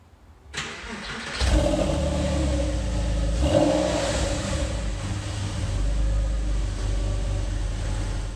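A Porsche 996's flat-six engine cranks and fires up with a loud burst, revs briefly, then settles into a rumbling, steady idle close by.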